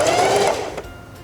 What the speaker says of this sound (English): Lower the presser foot and sew a few stitches for the bottom bar tack.